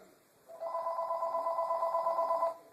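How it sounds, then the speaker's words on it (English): A telephone rings in a quiet room, a steady pulsing electronic trill lasting about two seconds, fairly clear and moderately loud with no talking over it. "there's a phone ringing."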